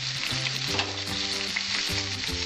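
Pointed gourd and green chili fry in a pan for a vegetarian pumpkin dish, giving a steady, close, loud sizzle that runs unbroken throughout with no voices.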